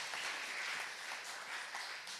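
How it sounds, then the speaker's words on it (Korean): A church congregation applauding to congratulate a member on her wedding, a brief, faint burst of scattered clapping heard at a distance in a worship hall. "결혼 축하 박수 한번 해주세요."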